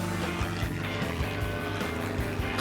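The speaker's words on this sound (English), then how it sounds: "I could feel the original Franklin engine pulling the airframe with all its might." A vintage airplane with its original Franklin engine drones steadily in flight over an archipelago, a continuous low rumble with a faint regular throb and no voices.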